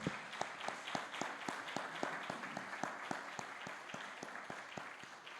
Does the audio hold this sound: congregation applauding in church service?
yes